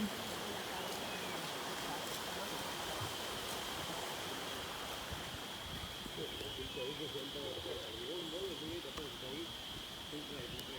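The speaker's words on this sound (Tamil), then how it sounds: "தண்ணி ஓடுது பாருங்க." Steady broadband rushing of a flowing stream near Aanaivari Muttal Falls, Salem District, fills the scene, with outdoor background noise and faint distant voices beneath it.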